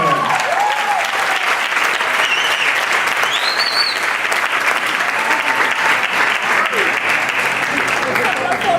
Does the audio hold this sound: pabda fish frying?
no